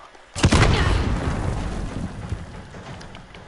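A sudden heavy gunshot blast from a weapon in Call of Duty Modern Warfare, a loud booming report followed by a long rumbling echo that slowly fades, with a faint second crack later.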